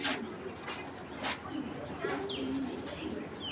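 A Hurricane breed pigeon coos softly in a loft, giving a few low, faint calls mixed with light chirps and background noise.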